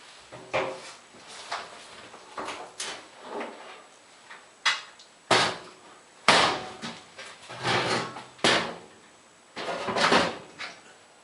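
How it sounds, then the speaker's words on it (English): Metal front panel of a clothes dryer tilted up and pulled off, a series of close, loud clunks, scrapes and rattles in irregular bursts with quieter gaps between. "Now tilt the panel up and remove it."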